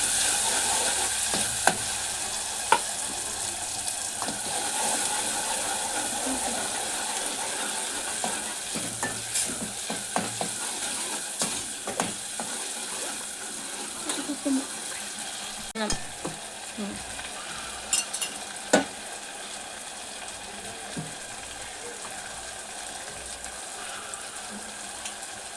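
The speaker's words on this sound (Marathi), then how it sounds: "चांगलं परतून घ्यायचं आपल्याला याला." Prawn curry masala with turmeric being sautéed and stirred in a pan for Malvani prawn curry, a steady sizzle with scattered scraping clicks of the spoon against the pan throughout, fairly close.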